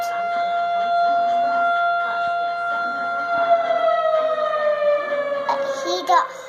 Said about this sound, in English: That's just the tornado warning.